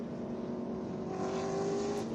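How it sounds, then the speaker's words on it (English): A TA2 race car streaks past on the front straightaway at NJ Motorsports Park during SVRA racing, a steady, loud engine drone that swells with a rising whine as it goes by. "And here comes the TA2 car, whistling up the inside on everybody."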